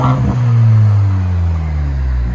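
Chevy Silverado 2.7L turbo four-cylinder with a straight pipe exhaust gives one loud, deep rev that swells and then winds down, heard close up with no talking.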